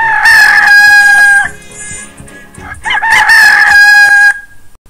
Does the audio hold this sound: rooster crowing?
yes